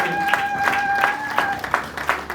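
A congregation at a Sunday church service claps in a steady, quick rhythm against a sustained tone, fairly loud and close.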